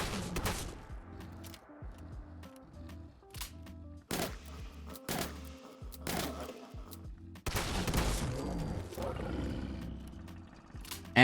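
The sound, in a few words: shotgun shots and Deathclaw roars in the Fallout 4 video game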